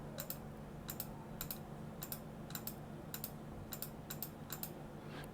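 Someone types on a computer keyboard, with quiet, close key clicks arriving in short irregular bursts against a low steady hum.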